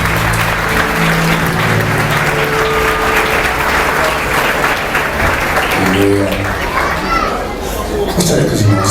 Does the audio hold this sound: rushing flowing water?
no